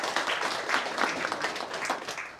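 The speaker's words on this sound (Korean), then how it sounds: "축하의 박수를 다시 한번 크게 치도록 합니다" Congratulatory applause fills the hall at a Korean literary award ceremony for prize winners, a moderately distant, continuous crowd clapping with no break.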